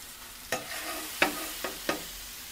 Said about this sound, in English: I could definitely tell this sauce is starting to burn a little bit.